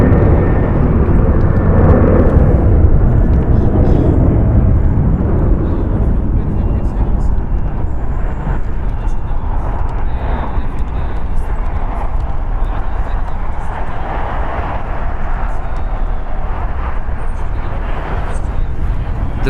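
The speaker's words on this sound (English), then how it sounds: "Departing here is American Airlines Flight 412 going to Minneapolis, or Indianapolis, say Boeing 737-8" A 13-year-old American Airlines Boeing 737-8 departs LAX with a loud, steady jet roar that swells early and eases slowly under continuous talk.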